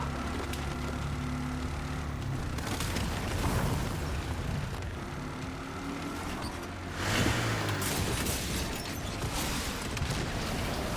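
Enemies blown up in Resident Evil 9 during a Raccoon City stretch with Leon, dense rumbling blasts and bursts swelling twice over a continuous heavy game soundscape.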